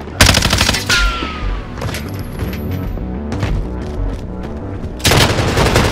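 Battle royale game gunfire: a fast rattling burst of automatic shots up front, scattered lighter pops and mechanical clatter in the middle, then another dense loud burst near the end.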